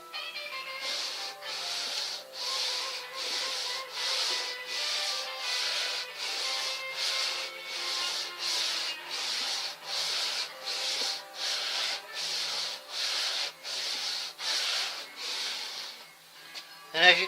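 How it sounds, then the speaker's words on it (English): Hand plane or scraping strokes working over a 1996 Geo Tracker engine cylinder head, a steady series of about twenty rhythmic, hissing rasps, each stroke close and evenly spaced with brief pauses between. "I'm planing this head, and this is how I do it."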